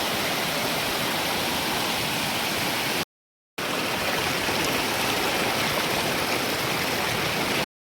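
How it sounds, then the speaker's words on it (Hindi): Monsoon rain water gushes from overflowing waterfalls near Shri Hemkund Sahib, a loud, steady, close roar that cuts out briefly once before returning just as strong. "बरसात में देखिए दोस्तों कितना सारा पानी निकल रहा है इधर उधर से।"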